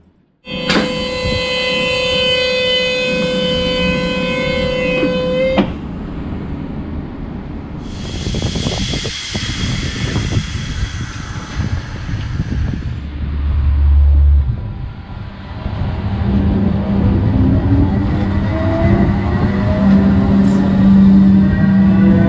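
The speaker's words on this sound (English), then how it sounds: "now we can take a look at the departure of our train" An SNCB AM 80 electric train whistles with a long tonal hoot, then loud rumbling and wind buffeting as it pulls away from the station, with rising electric motor whine near the end.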